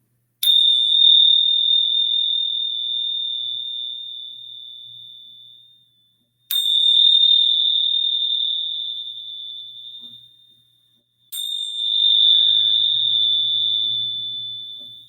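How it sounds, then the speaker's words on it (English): Meditation chimes struck three times during a full moon healing ritual, each a bright sustained ring that slowly decays, spaced several seconds apart, clear and close with no talking. "So I'm going to start off with doing the chimes to clear the energy."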